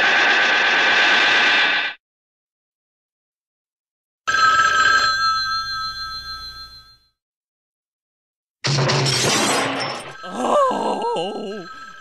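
Telephone ringing in loud electronic bursts separated by silent gaps, with a final burst that warbles and wavers in pitch.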